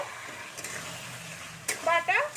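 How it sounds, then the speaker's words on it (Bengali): Potatoes, peas and ground poppy seeds stir-fry with spices in a pan, a close sizzle with scraping stirs, and a voice briefly speaking near the end. "সেইটাকে আমি ভালো করে এর সাথে কষে নিচ্ছি তাহলে পোস্তটাও ভাজা হয়ে যাবে"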